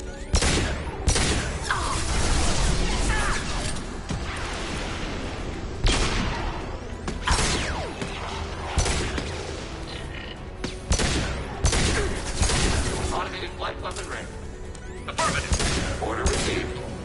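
Turret gunfire in Mass Effect 2, repeated bursts of heavy shots and booming impacts in irregular volleys over a dense, noisy battle background.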